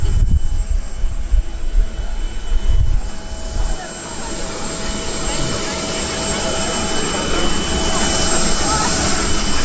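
Air Koryo Antonov An-148 jet airliner engines hum and whine steadily inside the cabin, with a high tone running through, as people talk nearby.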